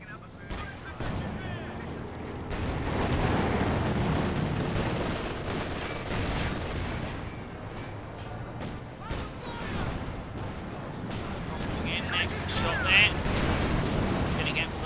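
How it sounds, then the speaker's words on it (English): Repeated anti-tank gun shots from a 6-pounder in Company of Heroes 2, a World War II strategy game, ring out amid other battlefield gunfire and explosions, with a commentator talking over the continuous din. "6-pounder gun still firing"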